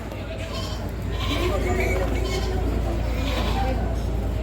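Goats bleat repeatedly at a livestock market in Padre Garcia over a loud, steady crowd and wind hum, with people talking nearby.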